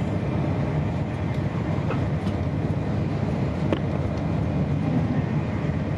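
A GWR Class 802 train runs between Didcot Parkway and Reading, giving a steady, even rumble and roar throughout with faint clicks and rattles and no talking.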